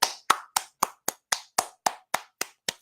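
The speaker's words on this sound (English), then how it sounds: "A round of applause for the Browns." One person on an NFL talk show claps for the Browns: eleven crisp, evenly spaced hand claps at a slow, steady rhythm, close and isolated with silence between each.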